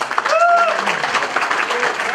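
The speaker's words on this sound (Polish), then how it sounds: "Wielkie brawa." Concert audience applauding a guest musician at a birthday concert, a steady wash of clapping throughout with a short whistle-like tone early on.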